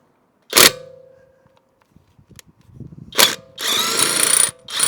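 A Conentool 21V brushless impact gun rated at 1000 N·m works a car wheel bolt, firing in loud close bursts: one sharp rattle, a pause with faint handling noise, then a short hammering burst and a longer sustained rattling run.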